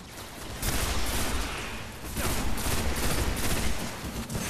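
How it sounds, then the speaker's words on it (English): Gunfire from the video game Destiny, including sniper rifle shots: dense, loud volleys of shots and bursts fill the whole stretch, with a busy battle din behind them. "What does it sound like when I shoot the sniper?"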